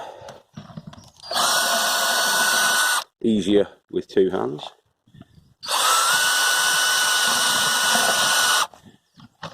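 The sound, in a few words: cordless drill driver drilling holes with 8mm metal bit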